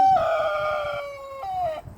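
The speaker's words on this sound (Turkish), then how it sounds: "Evet horozumun da sesi bu." A rooster crows loudly and close by, one long drawn-out call that breaks off and then finishes with a short tail, with no talking.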